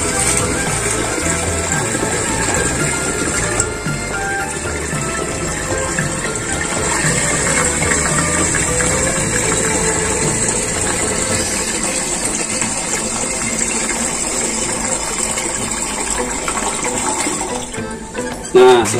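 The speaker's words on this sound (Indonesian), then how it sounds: "Kita campurkan air sampai penuh lagi." Water running steadily to fill a container of hydroponic AB mix nutrient solution, a continuous gushing flow that is loud and close throughout, with a brief clatter near the end.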